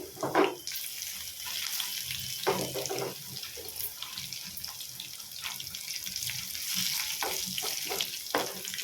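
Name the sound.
onions and cumin frying in oil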